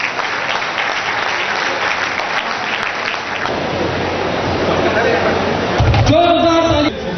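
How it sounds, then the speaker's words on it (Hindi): Loud, dense applause from an audience at a gathering in Nagpur, a steady wash of many hands clapping that carries on throughout without letting up. "तो आपके लिए जोरदार तालियां और ऑल द बेस्ट।"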